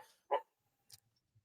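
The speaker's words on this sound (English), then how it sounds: "Dog's barking" A dog barks once, a short and fairly faint bark in the background, followed by a few soft, scattered sounds in near silence.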